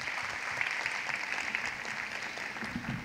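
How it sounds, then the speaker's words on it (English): At a women's college degree certificate ceremony, the audience claps steadily, moderately loud and even throughout, with no voices over the applause. "that calls for another round of applause"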